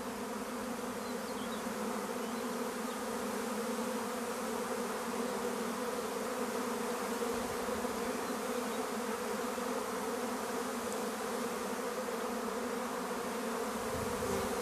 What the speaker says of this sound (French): On peut assister à un essaimage.